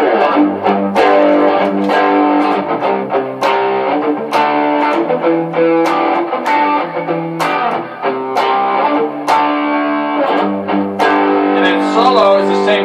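Heavily distorted electric guitar through a DigiTech RP500 and two Alto TS110a speakers plays chords and riffs with a thick, saturated tone, loud and continuous throughout.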